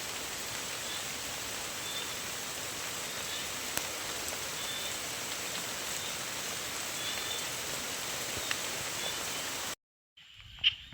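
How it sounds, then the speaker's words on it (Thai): Steady rain pours down in a rural setting with a dense, even hiss that stays loud for about ten seconds, then cuts out suddenly, leaving near silence broken by a couple of faint knocks. "บรรยากาศยามฝนตกบานบ่าวแพง"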